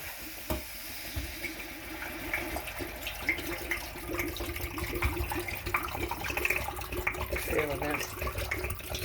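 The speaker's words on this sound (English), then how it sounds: "And we're going to add the water." Water pours into a cooking pot packed with artichokes, a steady rushing splash with faint clinks, running for several seconds close by.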